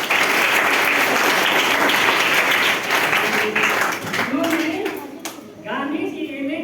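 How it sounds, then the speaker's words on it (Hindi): Loud, dense applause from students at a Gandhi discussion event held by the Uttar Pradesh Sarvodaya Mandal, clapping steadily for several seconds before thinning out as voices and talk take over near the end. "वैसे ये बहुत अच्छे ताली बजाएंगे।"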